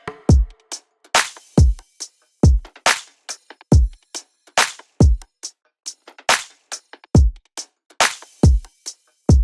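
Electronic drum loop at 140 BPM made of a punchy kick, snare and hats, repeating evenly with crisp dry hits and silence between, played alone with no voices.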